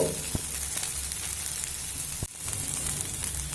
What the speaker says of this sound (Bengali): দেখুন লঙ্কাটা দিয়ে আমি দু মিনিট লো ফ্লেম করে ভেজে নিয়েছি